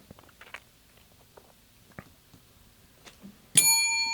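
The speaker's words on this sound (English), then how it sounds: "That's a bell." After scattered quiet clicks and taps, a single bright bell rings out sharply and keeps resonating with a clear sustained tone.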